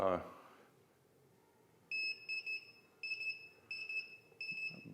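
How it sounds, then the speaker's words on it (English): A series of loud, high electronic ready beeps from a 1,000-watt-second studio strobe in quick bursts, some doubled, repeating over a few seconds with faint background noise and a brief voice at the start. "good loud beep"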